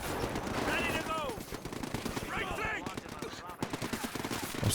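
Machine gun fire in a Company of Heroes 2 World War II match, loud, dense rattling bursts running throughout, mixed with other battlefield gunfire and a commentator talking over it.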